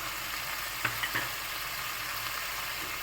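Mung beans with turmeric, cumin, chili and salt being stirred over onions and tomatoes in a frying pan: a steady soft sizzle with a few light spoon scrapes and clicks near the start, close and fairly quiet, no talking.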